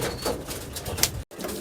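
Pigeons coo softly in a loft in Uttar Pradesh, low murmuring calls over a busy background hum, with a brief dropout near the end.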